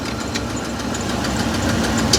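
A car engine idling with a misfire detected on cylinders 1 and 8, a steady close rumble with uneven knocking pulses and no talk.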